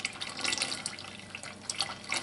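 Lye water poured carefully into a pot while making coconut oil laundry detergent, a continuous close liquid stream with light splashing and trickling, steady and without speech.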